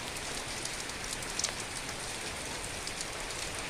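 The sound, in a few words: heavy rain falling on a garden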